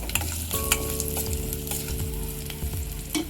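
A spoon stirs a turmeric tempering in a frying pan, giving a steady close sizzle and scraping with a soft tonal hum underneath, and no voices.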